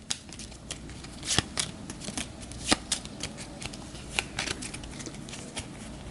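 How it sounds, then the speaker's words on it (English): Cards from a board game faction deck being shuffled by hand, a steady run of crisp riffling bursts and soft patters close by, with no talking. "I'll upgrade tiebreakers here once I finish shuffling the faction deck."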